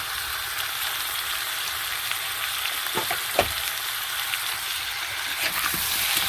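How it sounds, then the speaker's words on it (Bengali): Ground spices frying in oil in a pan: a steady close sizzle and crackle throughout, broken by a few sharp clinks and scrapes of stirring around the middle, with no speech. "একটু ভালো করে ভেজে নেব, আবার একটু মশলাটাকে ভালো করে করে নেব, কষিয়ে"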